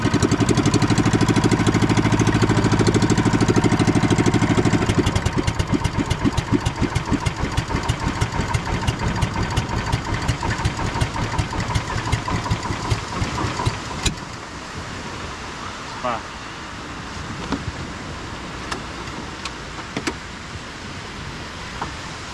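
A boat's engine running, first a loud steady droning idle, then a rapid rhythmic chugging that gradually settles into a lower, quieter running hum with occasional knocks.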